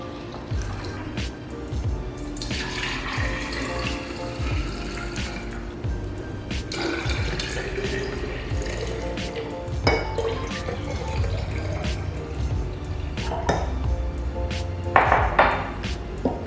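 Homemade oat milk poured into a container, a wet trickling and splashing stream with a few clinks of glass or dishware, steady and close for the whole stretch.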